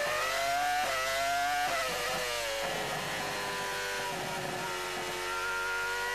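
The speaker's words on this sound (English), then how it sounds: "Let's listen to the Honda engine" The Honda V10 engine of a Jordan Formula 1 car at the 2002 Hungarian Grand Prix screams at high revs, its pitch rising and dropping through gear changes for several seconds, loud and continuous.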